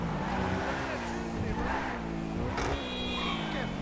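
A 2021 Bugatti sliding through a drift in GTA 5: a steady, loud engine drone with shifting pitch and a sharp surge near the end, while a voice talks over it.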